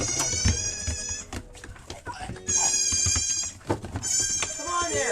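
Goats bleating at an animal farm, loud and close, with several long wavering calls overlapping and repeating across the stretch with little pause.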